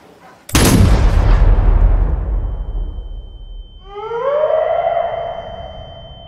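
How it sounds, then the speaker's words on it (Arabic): A single loud, sharp gunshot in a film scene, followed by a lingering decay and then a swelling tonal rise like music or a siren. "حسن بيلاقي طلقة حقيقية ضربت رامبو."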